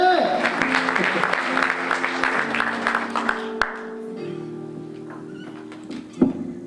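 A church congregation at a rally in Paris applauds in a dense burst of clapping that fades after a few seconds, leaving a sustained musical tone and scattered noises.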